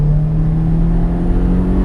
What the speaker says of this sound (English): Revving right round past.